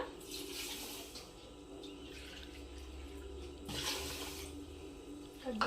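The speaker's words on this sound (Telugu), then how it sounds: "నేను నీళ్ళు అయితే యాడ్ చేసేసుకుంటాను" Water splashes and pours into a pan for sugar syrup in two short bursts, with quiet clinks and faint room sounds between them.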